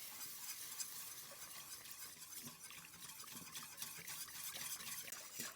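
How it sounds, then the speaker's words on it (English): Dried mustard powder being whisked into milk: a quiet, quick rhythmic scraping of a whisk against the bowl, continuous and close, with no voices. "To this, I'm going to add some dried mustard powder, and we'll whisk that in."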